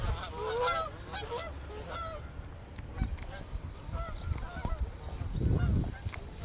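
Geese or similar waterfowl honk repeatedly near a fishing pond outdoors, fairly close, over a steady background of wind and rustling, with a heavier low rumble near the end.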